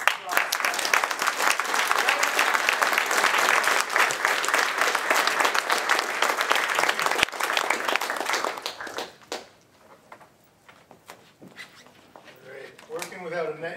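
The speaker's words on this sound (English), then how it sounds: "Can we give a huge round of applause?" An audience at a live panel event on pedestrianizing streets gives loud, dense applause that holds steady for about eight seconds, then thins into scattered claps and murmuring voices.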